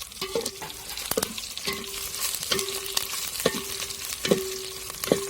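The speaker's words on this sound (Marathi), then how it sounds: "मोहरी टाकल्याच्या नंतर आपल्याला थोडीशी जिरे पण टाकून घ्यायची आणि जिरे लाल होऊन द्यायचे" Mustard seeds and cumin frying with chilli and garlic in a village kitchen, a continuous crackling sizzle broken by repeated sharp stirring taps against the pan, close and moderately loud, no talking.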